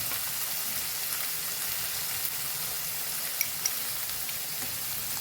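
Garlic and ginger sauté in a pan for a tangy achari chutney, giving a continuous fine hiss like light rain, steady and fairly quiet with a few faint ticks.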